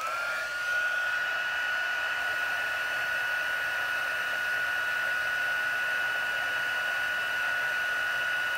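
A handheld heat tool blows steadily to melt embossing powder on a card, making a constant close whoosh with a high whining tone that stays even throughout, with no talk.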